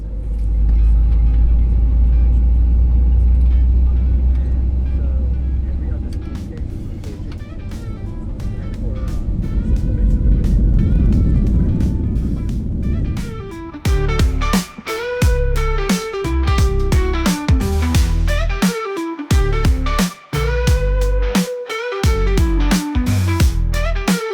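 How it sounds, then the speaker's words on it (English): WestJet airliner pushing back from the gate and taxiing toward the runway: a loud, steady low engine rumble that later turns choppier, with bursts and tones rising above the drone. "We were soon pushed back and headed over to the runway."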